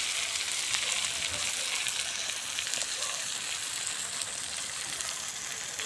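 Cauliflower fish curry spices frying with chili paste, turmeric and salt: a soft, steady sizzle with faint stirring beneath, fairly quiet and continuous, no voices.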